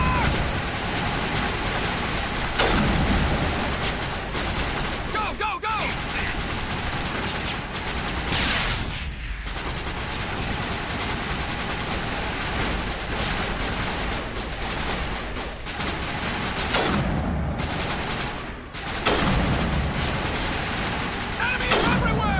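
Defensive turrets in the game Mass Effect open fire in a dense, loud stretch of rapid automatic shots and impacts, with short breaks, over a low engine-like hum and brief game voices.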